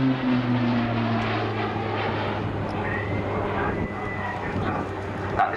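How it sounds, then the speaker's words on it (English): An uprated Garrett TPE turboprop engine on an RAF Tucano trainer during a 2019 display at Southport drones steadily overhead, a continuous loud hum with a low tonal whine that holds throughout. "That distinct noise you'll hear throughout the display is the uprated Garrett TPE turboprop engine"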